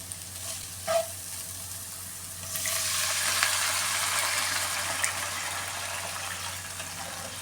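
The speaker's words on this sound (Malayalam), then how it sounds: "ഇനി ഇത് വേവാൻ ആവശ്യത്തിലുള്ള വെള്ളം ഒഴിച്ചു കൊടുക്കാം ഇതിലേക്ക്" Water poured into a hot pan of coconut for broken wheat upma hits with a sudden loud hiss that settles into a steady, close sizzle and bubble.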